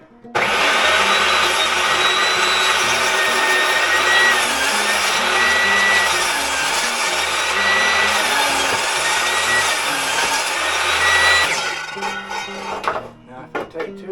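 Wood being cut into 4-inch pieces with a power saw, a loud continuous whining cut that runs steadily for about eleven seconds, then stops and leaves scattered clatter and handling noise.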